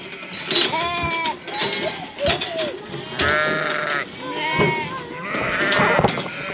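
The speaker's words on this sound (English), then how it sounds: "nice little race full of lambs here" Lambs bleating in a farm race with no ewes among them, repeated wavering calls from several animals overlapping close by throughout, with a faint clink now and then.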